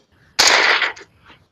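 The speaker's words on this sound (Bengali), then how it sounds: "দূত নৌকা হইতে অবতরণ করিয়া কিছু দূরে আসিয়া একটা ফাঁকা আওয়াজ করিল" A single blank gunshot sound effect, as fired by a man stepping off a boat near a riverbank: one sharp, loud broadband blast lasting about half a second with a short ragged tail, heard alone without speech.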